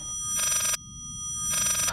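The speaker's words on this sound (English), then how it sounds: "Ah, it's the phone ringing." Telephone ringing in the horror video game Layers of Fear: two loud, close bursts of a bright electronic bell, separated by a short pause, over a low background rumble.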